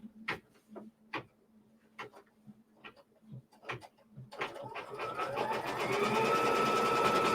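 A sewing machine stitches pieced quilt block triangles, starting after a few light clicks and handling noises, then running as a steady fast whirring hum that grows louder and holds.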